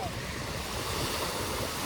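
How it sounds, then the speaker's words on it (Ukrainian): Ocean surf rolls onto the shore in a steady, full roar, buffeted by wind noise on the microphone throughout, with no clear talk. "І зараз я можу бачити на власні очі океан."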